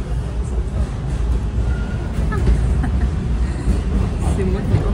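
Steady rumble and low roar of a subway metro train in Toronto heard from inside a moving car, continuous and fairly loud throughout, with no talk over it.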